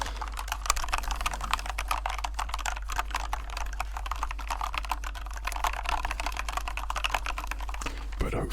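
Rapid, steady typing on an expensive keyboard, close and crisp, with dense overlapping keystrokes running continuously over a low constant hum.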